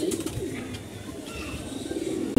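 Army pigeon cooing softly in low, rolling murmurs, close by and fairly quiet over a brief stretch.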